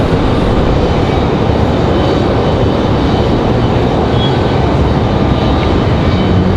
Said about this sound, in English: Delta 2521 coming in from Minneapolis.